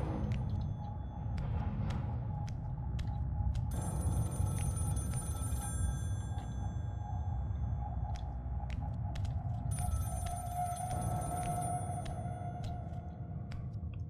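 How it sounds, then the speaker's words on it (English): Phone ringing in a shower in the video game Scream: repeated electronic ring bursts, fairly faint, over a steady low game-music drone and ambient rumble, with no talking. "Why would a phone be in the shower?"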